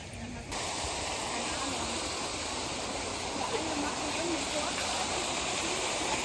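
Steady rushing water fills the whole clip, a broad continuous splash from fountain waterfalls in a park in Germany, close by.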